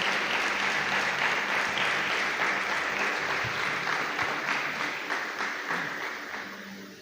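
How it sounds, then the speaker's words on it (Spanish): A church congregation applauds loudly and steadily, a dense wash of clapping filling the room that slowly fades toward the end. "Dale ese fuerte aplauso al Señor."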